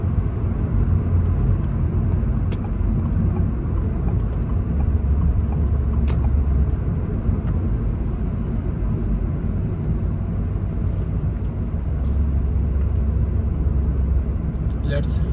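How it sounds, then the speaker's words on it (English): A 2025 Changan Eado cruises in eco mode along King Khalid Road in Riyadh, its steady low engine and road rumble continuous and close, with a few faint ticks and clicks from the cabin. "Right now we are driving this Changan Eado 2025 in eco mode."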